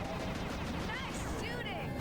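Rapid video game gunfire crackles through a dense wash of in-game noise, a steady barrage with whistling effects layered on top, loud and close throughout.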